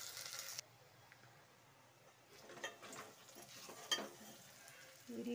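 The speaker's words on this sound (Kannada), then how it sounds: "ಚೆನ್ನಾಗಿ ಫ್ರೈ ಆಗಲಿ." Garlic-ginger paste fries quietly in a pan for a home-style saaru, giving a faint, low sizzle broken by a few soft stirring scrapes and clicks.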